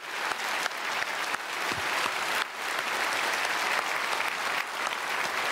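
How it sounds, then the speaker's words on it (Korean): A church congregation bursts into steady applause during an early-morning special service, the dense clapping holding at an even, loud level throughout. "박수로 축복하겠습니다."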